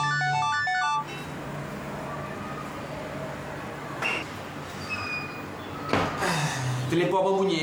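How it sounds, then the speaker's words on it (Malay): A telephone ringtone plays a short electronic melody for about a second at the start, then cuts off into steady room noise with scattered knocks and rustles, in a Malaysian television drama scene. "Telefon apa bunyi, Mina?"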